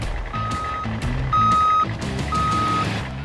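A vehicle's broadband reversing alarm sounds in three evenly spaced bursts of hissing noise over a truck engine's low rumble, close and loud.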